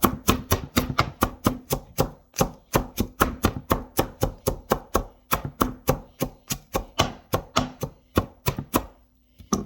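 Knife chopping cabbage for coleslaw on a cutting board: loud, close, rapid evenly spaced chops in long runs with a brief pause partway, no talking.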